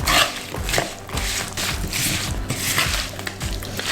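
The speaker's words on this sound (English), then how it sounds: "And let's just mix everything together." Green apple pickle ingredients tossed together in a bowl, with close, irregular squishing and soft knocking of a spoon against the bowl across four seconds, no talk.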